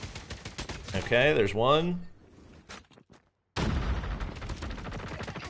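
Bursts of gunfire from thermite rounds in Call of Duty Mobile, sharp rapid shots crackling under a player's voice, then a short quiet gap before a dense stretch of continuous firing.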